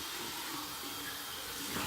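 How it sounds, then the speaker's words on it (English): Cold water runs steadily from a sink tap while a shaving brush is rinsed, a close, continuous splashing hiss with no voices. "another final rinse with cold water, right from the tap"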